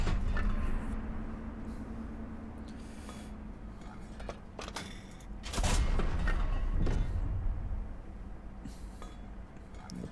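Tank cannon fire in the WW2 tank game Panzer Elite, a loud thudding boom near the middle of the clip over steady low battlefield rumble, with smaller clinks and knocks scattered around it.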